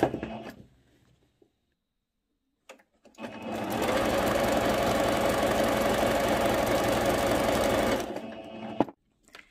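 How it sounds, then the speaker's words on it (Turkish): A sewing machine stitching an elastic waistband on viscose fabric runs in a steady, loud continuous whir for about five seconds, close up, after a quiet stretch with faint handling noises. "Şöyle çektirerek ilk sıra lastiğimi dikiyorum."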